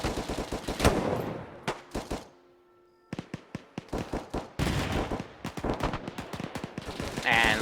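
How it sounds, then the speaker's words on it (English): Anti-aircraft gun in Arma 3, in a World War II setting, fires upward in rapid staccato bursts, loud and close, with a short lull before the firing resumes in dense volleys. "This AA gun trying to fire up at Stewie."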